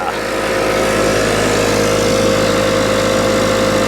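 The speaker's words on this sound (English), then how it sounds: "This is an old compressor. It's probably 15 to 20 years old." An old compressor, roughly 15 to 20 years old, running with a loud, steady mechanical drone and a constant low hum that does not change for the whole stretch.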